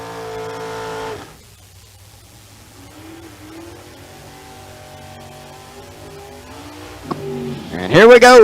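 A drag racing Camaro sits in the top ET class at the Verge Quick Outlaw Series in London. Its engine hums steadily under an announcer's talk, then surges into a loud rising roar at the very end.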